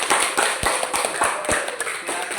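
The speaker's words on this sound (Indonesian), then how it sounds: "sekarang kita kasih aplaus yang meriah untuk kelompok A" A classroom of students gives a round of applause for group A after their presentation, a dense, steady patter of many hands clapping close by, with sharper individual claps standing out through the short burst.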